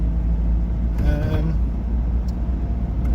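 Steady engine and road rumble inside a moving Polonez Caro Plus fill the clip, a continuous interior drone with a brief higher whine partway through.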